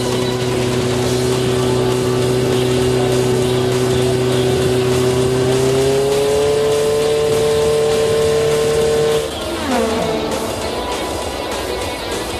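A race car engine drones loudly and steadily, then its pitch climbs and drops sharply as the car passes close by during a race.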